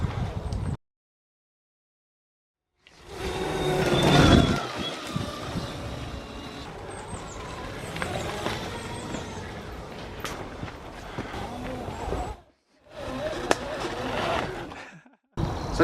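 An Oset MX-10 adult electric mini dirt bike is ridden off-road, its motor whine mixed with knobbly tire rumble and wind buffeting, recorded close in several cut segments separated by silent gaps.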